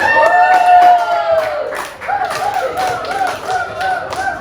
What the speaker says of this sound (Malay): terima kasih anak bagi tepukan ke anak